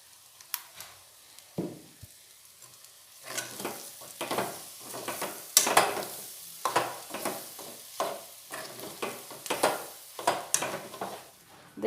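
An egg dish frying in mustard oil, with steady sizzling and repeated scraping stirs of a spatula in the pan, close and fairly loud, no voices.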